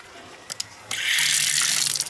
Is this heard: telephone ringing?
no